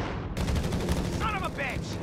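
Gunfire in Company of Heroes 3, a World War II strategy game, as a steady mid-distance crackle of battle noise, with soldiers' shouted voice lines over it.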